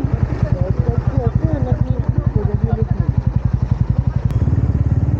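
A motorcycle engine thumps with a fast, steady putter close by, while people talk over it.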